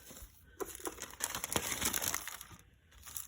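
A plastic bag crinkles as it is pressed into a sculpting surface to make texture, a close, soft rustle that builds and fades in bursts.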